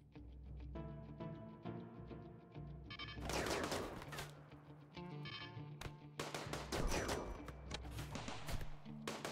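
Rapid bursts of automatic turret gunfire from RimWorld base defenses shooting at raiders, loud crackling volleys coming in waves with brief pauses, set over steady background game music.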